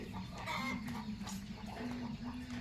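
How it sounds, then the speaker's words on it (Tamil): A rooster clucking close by, several soft clucks in a steady stream over a low constant hum, no voices. "அது சேவல்"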